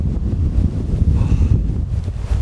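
Strong wind roaring across a snowy mountain ridge at Seonjaryeong, a loud, steady, buffeting rush battering the microphone throughout, with no talking.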